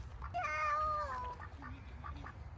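A duck on a private farm gives a run of nasal, drawn-out quacks up close, then quieter calls fade out against low background rumble.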